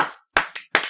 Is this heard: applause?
yes